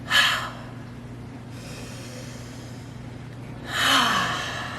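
Two audible breaths of a relaxation breathing exercise, a sharp inhale at the start and a long, soft exhale through the mouth near the end, close and clear over a low steady hum with quiet between.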